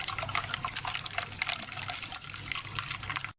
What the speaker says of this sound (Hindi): इसके बाद हम इसमें डालेंगे कोल्ड ड्रिंक।